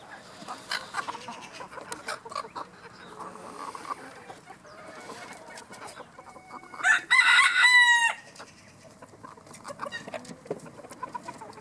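Chickens clucking in a pen alongside a rooster letting out one loud, close crow midway, with scattered soft clucks and rustling before and after.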